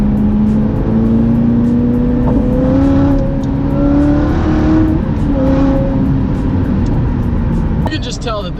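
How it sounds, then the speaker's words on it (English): A 2019 Corvette ZR1 with a manual seven-speed gearbox drones loudly and close, its engine pitch climbing and settling through throttle changes, with a brief crackle at the end and someone talking over it. "the noise when you let off the throttle in this car is quite possibly the greatest noise I have ever heard"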